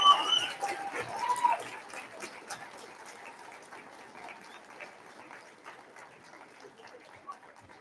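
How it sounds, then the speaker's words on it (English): A school Veteran's Day assembly crowd gives a teacher a standing round of applause, clapping strongest at the start and then gradually thinning to scattered claps, with no voices heard. "Can you please give her a standing round of applause?"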